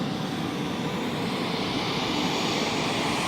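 A private jet's engines give a steady, even roar with broad whooshing noise that holds unchanged throughout, with no voices.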